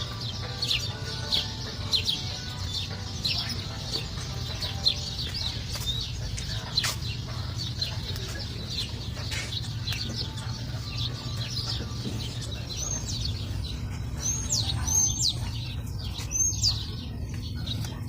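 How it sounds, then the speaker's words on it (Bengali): Small birds chirp and tweet from trees outdoors in America, with bright, frequent calls over a steady low background hum that grow busier and closer near the end. "পাখির আওয়াজ শুনতে পাচ্ছেন"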